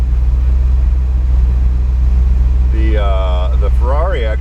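A Ferrari 488 GTB drives on Sonoma Raceway, heard as a steady low engine drone from inside the cabin, with a voice talking over it near the end.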